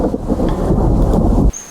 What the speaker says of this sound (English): I have some thunder,